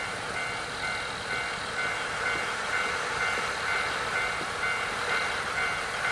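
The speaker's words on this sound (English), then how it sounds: "Oh, train's working." A train standing at a station in the video game Nostalgic Train gives a steady, continuous mechanical hum with a faint tonal whine, level throughout without speech.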